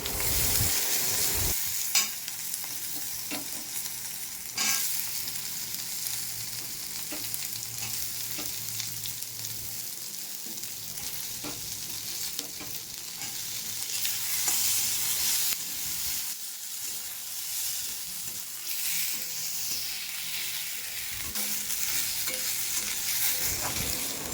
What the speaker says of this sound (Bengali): তেলের মধ্যে গোটা গরম মশলা, শুকনো লঙ্কা, ধনে, জিরে, আদা, রসুন, পেঁয়াজ, টমেটো কুচি দিয়ে একটু ভেজে নেব।